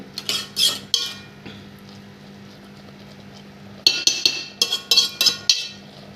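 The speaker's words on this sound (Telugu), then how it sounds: "మొత్తం పెసరపప్పు అంతా అన్నంలో కలిసిపోయేటట్టుగా శుభ్రంగా తిప్పేసుకుంటే" A spoon stirs moong dal and rice together in a pot for sweet pongal, giving sharp metallic clinks and scrapes in two busy bursts separated by a quieter gap.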